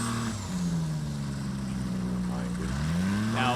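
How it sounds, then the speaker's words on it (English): A STOL aircraft powered by a turbocharged Yamaha Sidewinder engine drones steadily at close range, its pitch rising and falling as it takes off, with a brief higher whoosh near the end. "You can hear the turbo blow-off valve of this Yamaha Sidewinder."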